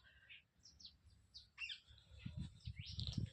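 Sparrows and parrots chirp and tweet in scattered bursts at a moderate distance, with low rumbling background noise.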